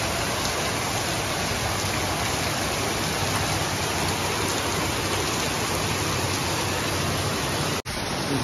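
Heavy rain pours down at night in a steady, dense, loud roar, continuous throughout with only a momentary dropout near the end.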